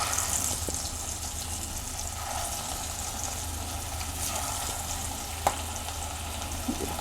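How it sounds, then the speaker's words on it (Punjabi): Chicken frying in a pan on a gas stove while making chilli chicken, a steady close sizzle with faint crackling, heard alone without talk. "ਆਪਾਂ ਚਿਕਨ ਫਰਾਈ ਕਰ ਲਾਂਗੇ"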